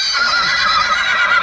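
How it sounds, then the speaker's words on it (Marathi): A black Panchkalyan horse at a busy market neighs in a loud, continuous, bright whinny across the whole moment, with no voices over it. "पंचकल्याण घोड़ा है दोस्तों. और ब्लैक कलर का है पूरा"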